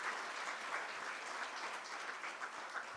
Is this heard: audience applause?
yes